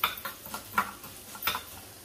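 Mustard seeds, about three tablespoons, frying in hot oil with fenugreek for a mango pickle, a soft crackling sizzle broken by a few faint stirring scrapes and ticking pops.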